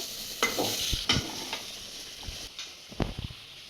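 Boiled snake gourd goes into a hot frying pan and gets stirred, a few sharp scrapes and clinks over a low sizzle, close and brief, without talk.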